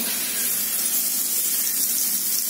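Prawns hit a hot pan with fried onions, cumin seed and garam masala, giving a steady loud sizzling hiss, close and continuous, with no talking.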